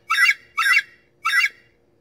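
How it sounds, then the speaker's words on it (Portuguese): Three high, shrill bird calls from a hawk, each roughly a quarter second long, evenly spaced and clear against near silence. "Gavião."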